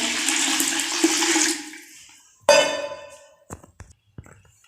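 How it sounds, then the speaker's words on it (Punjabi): Cold water gushes steadily into a vessel for a couple of seconds, then stops. A sharp metallic clang follows, with a few lighter knocks after it. "ਹੁਣ ਆਪੇ ਦੇ ਵਿੱਚ ਠੰਡਾ ਪਾਣੀ ਪਾਵਾਂਗੇ"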